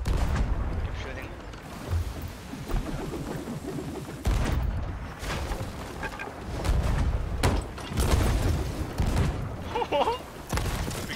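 Gunfire and cannon-like artillery shots in a naval battle game, repeated booms and cracks in an uneven stream, with players talking excitedly over the top.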